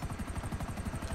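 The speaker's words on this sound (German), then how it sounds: "ich flieg mit dem Helikopter" Helicopter in GTA V online, a rapid rhythmic thudding of rotor blades with a steady whine above it, continuous and fairly faint, close by, with no talk.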